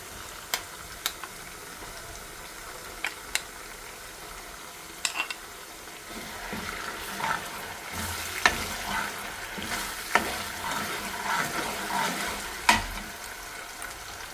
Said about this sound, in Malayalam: നമുക്ക് ഈ മുളക് അരച്ച് വെച്ചത് ഇതിലേക്ക് വെച്ച് കൊടുക്കാം